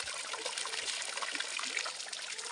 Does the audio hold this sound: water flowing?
yes